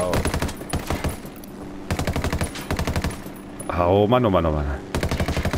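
A helicopter's machine gun firing at the players in Ghost Recon Wildlands, with loud rapid bursts of close gunfire separated by short pauses. A whirring tone rises and falls between the bursts, and someone speaks briefly.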